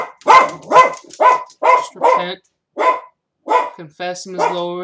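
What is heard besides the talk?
dog barking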